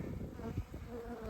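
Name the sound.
honey bees buzzing in hive during inspection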